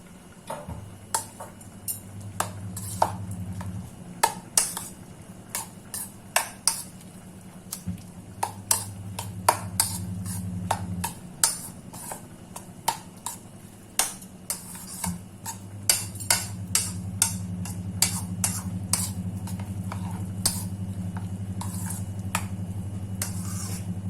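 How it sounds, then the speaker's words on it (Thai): A utensil stirs coconut milk with sugar and salt in a pot. It makes repeated sharp clinks and scrapes against the pot over a low steady hum, irregular but frequent, close by, with no voices. "คนให้เข้ากันนะคะ"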